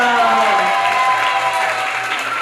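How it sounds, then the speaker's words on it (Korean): A church congregation at a Friday overnight worship service claps in thanks, a dense, steady round of applause filling the room, with a voice faintly audible beneath it. "우리 감사의 박수 올려드리겠습니다."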